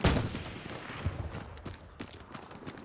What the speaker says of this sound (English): Hang on, I'm getting shot at.